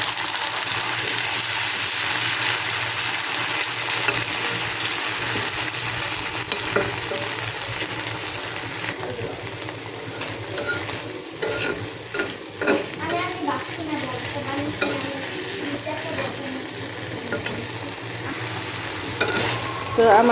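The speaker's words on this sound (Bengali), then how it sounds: "আমি বাঁশপাতা শুটকিটাকে ভাজবো, সেজন্য আমি কড়াইতে কিছুটা তেল দিয়েছি। তেলটা গরম হয়ে গেছে, আমি এর মধ্যে বাঁশপাতা শুটকিটা ছেড়ে দেবো।" Dried bamboo-leaf fish (shutki) fries in hot oil in a wok with a steady, loud sizzle, while intermittent stirring scrapes and clinks come through in the second half.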